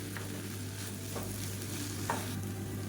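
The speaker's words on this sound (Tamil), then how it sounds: "ஹை ஃப்ளேம்லேயே வச்சு கிளறி விட்டுக்கோங்க." Egg rice is stirred in a pan over a high flame, with a steady sizzle and a few soft scraping strokes of the spoon.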